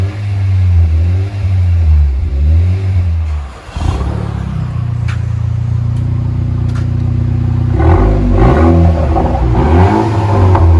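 Honda Accord 2.0L turbo engine with a straight-pipe exhaust revving loudly and deeply, with repeated rises and falls in pitch, a brief dip near the middle, then another burst of revs.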